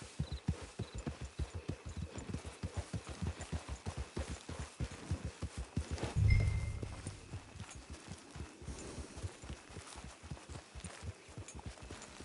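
Horse hooves clip-clop in the Red Dead Redemption 2 video game, a steady, evenly paced series of soft thuds that continue throughout at low level, with a brief louder thump midway.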